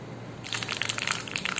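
Mustard seeds and urad dal hit hot oil in a kadai for tempering, bursting into a close, crackling splutter of sharp pops that begins abruptly and continues densely.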